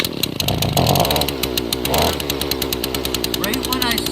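A two-stroke engine with the choke on is pull-started and catches, running loud and close with a rough, rapid buzzing putter that stays steady throughout, with a voice briefly speaking over it.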